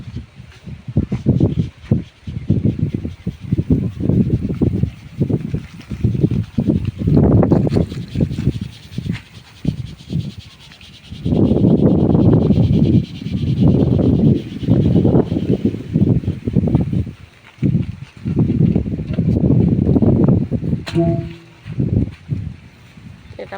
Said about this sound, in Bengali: এই দেখুন বাতাস হচ্ছে, গাছের পাতা নড়ছে।